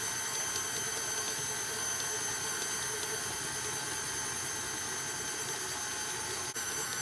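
A stand mixer motor runs steadily while mixing flour into Toblerone shortbread dough, a close, even whirring hum that continues for the whole stretch without pause or talk.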